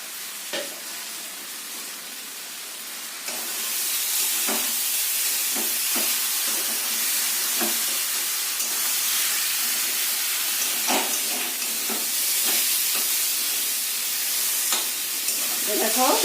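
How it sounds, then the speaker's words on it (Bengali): Beans frying with ground peanut paste in a wok, stirred steadily, give a continuous sizzling hiss with scattered scraping clicks of the spatula, close and moderately loud with no voices. "ভালো করে নাড়াচাড়া করে নিই যাতে সবগুলো ভাজা হয়ে যায়।"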